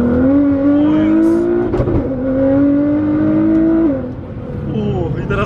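A Nissan GT-R accelerates hard on snow, its engine note climbing through the gears with a shift around the middle, loud and close from inside the car, with voices talking over it.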